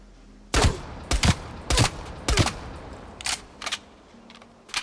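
Rifle gunfire from Call of Duty Cold War, several short bursts of sharp shots, louder and closer at first, then fainter single shots and bursts spaced apart.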